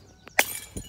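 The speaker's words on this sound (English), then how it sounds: "It's a glass jar." A glass jar breaks on rocks beside a river, making one sharp, bright crash with a brief ringing shatter, followed by a softer knock.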